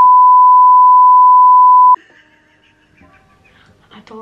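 A sustained electronic censor beep, a steady pure tone around two seconds long, covers a spoken word before quieter background sounds and faint talk return.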